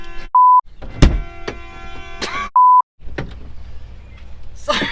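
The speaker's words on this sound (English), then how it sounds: "Oh my goodness, can they stop beeping?" Two sharp, steady electronic beeps sound about two seconds apart, loud and near, amid clunks and rattling movement around a VW Crafter camper van.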